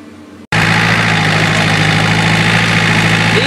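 A John Deere diesel lawnmower engine idles close by, loud and steady with a constant low throbbing hum after a brief quiet start.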